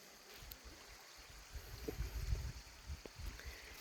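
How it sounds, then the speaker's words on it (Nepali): Water flows at the lower waterfall, a faint steady rushing with low burbling surges in the middle, distant and soft with no talk. "यो तल्लो झरना हो।"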